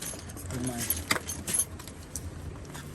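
Metal wrenches jangle and clink in a few quick bursts up close while a Vitilan V3 e-bike is being assembled, with faint voices and background noise beneath.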